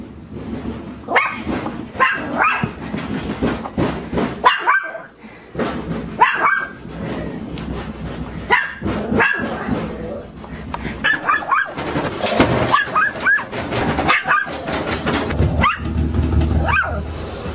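A Chihuahua barks repeatedly in bursts, reacting to a household washing machine, with short yips and whimpers mixed in and occasional voices talking nearby.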